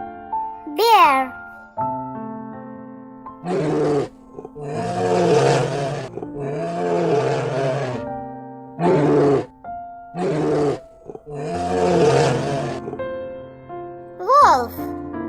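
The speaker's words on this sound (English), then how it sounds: "Bear." A bear roars and growls in a run of loud, rough bursts of varying length, separated by short pauses, over a steady layer of tonal background sound.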